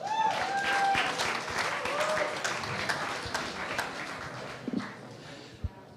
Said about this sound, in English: Please give it up for the CEO of Gitsy, Edial Dekker.